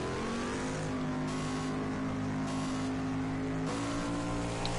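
Several race cars rev and accelerate together at a rolling start on the Daytona road course in a racing video game, a loud continuous engine roar with shifting pitch and a gear change near the end, no talking.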